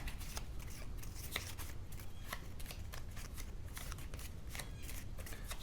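Playing cards shuffled by hand during a Lord of the Rings: Journeys in Middle-earth board game session, a steady run of crisp riffling snaps and rapid papery flutters, close and fairly quiet throughout.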